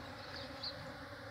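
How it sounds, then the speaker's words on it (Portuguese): Bees hum and buzz steadily around a flowering ora-pro-nobis plant, a dense, continuous insect drone close by with no talking. "Meu Ora Pro Nobis abriu as flores e tá cheio de abelha"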